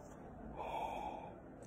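A single drawn-out human yawn, close and quiet, swelling into a breathy, open-mouthed exhale before fading away.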